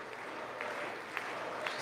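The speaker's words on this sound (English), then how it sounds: "The applause is not as strong as I thought" Tepid applause in a large chamber at the State of the Union, a steady moderate wash of clapping heard from a distance with a few sharper accents.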